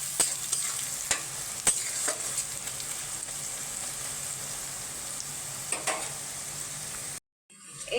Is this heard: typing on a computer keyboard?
no